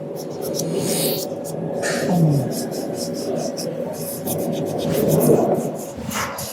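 A CNC-cut workpiece is sanded smooth for finishing, giving a continuous rough, raspy rubbing in close uneven strokes that swell and fade, with faint voices murmuring underneath.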